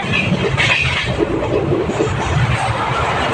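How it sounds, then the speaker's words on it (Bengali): A train runs past close by, a steady loud rumble of wheels and rail noise with no break across the whole stretch. "এদিকে ট্রেন যাচ্ছে।"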